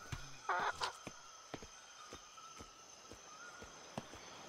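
A chicken in the video game Atlas, soft clucks heard early over a faint game background with regular light ticking steps, fairly quiet overall.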